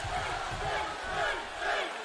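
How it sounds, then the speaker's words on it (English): A video-game wrestling arena crowd at WWE 2K SummerSlam in Miami chants steadily for Finn Balor, a dense, rhythmic roar of many voices filling the hall at an even level throughout. "this crowd already chanting for Finn"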